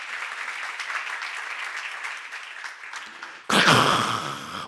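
Applause from a church congregation at a Korean seminar, a dense, fairly distant clapping that runs for several seconds before a sudden loud burst of sound cuts in near the end.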